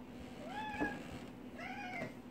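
A house cat gives two close, soft meows about a second apart, each a drawn-out rising-then-falling call over a quiet indoor hum, with no talking.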